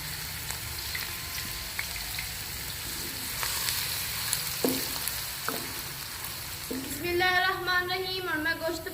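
Onions frying in hot oil in a kadhai, a steady close sizzle throughout with a few clicks and scrapes, then a louder burst of crackling near the end as more goes into the pan.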